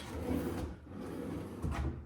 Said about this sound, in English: drawers here. Probably soft close is my guess.